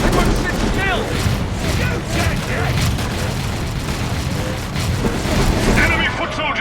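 Battle gunfire from the real-time strategy game Dawn of War 3: dense, continuous loud rattling bursts and booms filling the mix, with game voices and effects layered over it.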